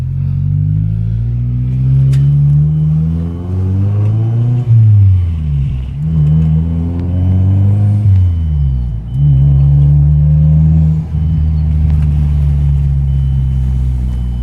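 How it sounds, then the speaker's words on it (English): A car engine with a Garrett GTX3076 turbo revs up through several gears at wide-open throttle, pitch rising and dropping with each shift, loud and close, a faint turbo whine riding above the rumble. "Turbo's pretty audible."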